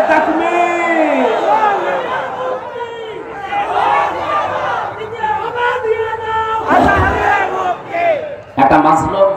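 A large crowd at a Jamaat-e-Islami religious gathering roars back a chanted takbir in response, many voices shouting together loudly and continuously for several seconds, with brief surges and a short drop near the end.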